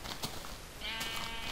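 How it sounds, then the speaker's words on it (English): Sheep bleating in the Minecraft Alpha video game: a short, faint bleat over a hissy background, heard alone without speech. "Now we have sheep."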